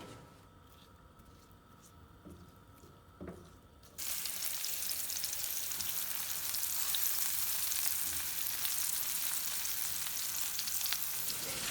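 Onions fry and caramelize in a pan for a traditional Greek Karpathian pasta dish, with a few quiet stirring taps before a steady, bright sizzle starts suddenly and holds at an even level.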